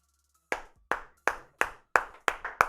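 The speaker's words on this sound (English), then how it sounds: "Clap it up" Seven slow, evenly spaced hand claps, close and sharp, each ringing briefly, greeting a newly signed football player.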